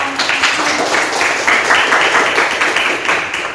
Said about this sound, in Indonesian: Oke, berikan aplaus kepada